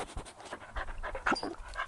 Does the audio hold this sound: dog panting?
yes